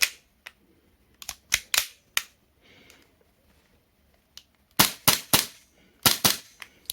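A Baikal MP 659K green gas airsoft pistol fires a series of sharp, loud, close cracks, at first single spaced shots and then quick clusters of two to four, with near silence in between.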